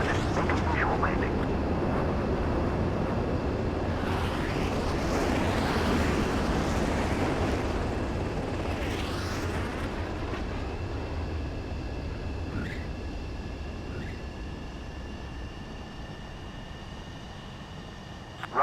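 A fighter jet in Ace Combat 7 comes in to land with a steady, loud roar of engine and rushing air, swelling in the middle and easing off toward the end, while radio voices talk over it.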